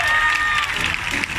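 A live crowd applauds and cheers at the close of a comedy show by Los Guajolotes in Pánuco, Veracruz, with a dense, loud wash of clapping and crowd noise that runs through the whole moment.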